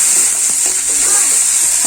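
Night-flowering jasmine (shefali) flowers frying in a pan, a loud, steady, close-up sizzle with faint stirring scrapes throughout.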